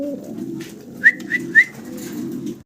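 Spanish Gorgorio pigeons give three short, close calls in a row over a steady low murmur of background coos and ambient noise.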